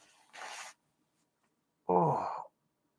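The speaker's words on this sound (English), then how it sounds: "I got to blow my nose." Two separate bursts of a person blowing their nose while sick, a short airy blast followed by a longer, louder, more congested honk, close and alone in a quiet room.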